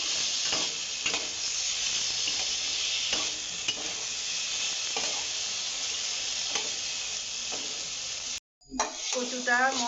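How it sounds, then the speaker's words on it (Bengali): Taro and spices sauté in a pan for a vegetarian mung dal curry, giving a steady sizzle with repeated scraping stirs, then a brief drop and a clattering resumption. "কচুটা মশলাগুলো সমস্ত আমার কষা হয়ে গেছে।"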